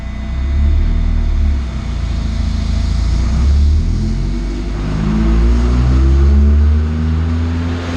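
A car is driven hard in second gear on a homemade chassis dyno with a spinning flywheel, its engine a loud, steady roaring drone that swells as the revs climb and hold.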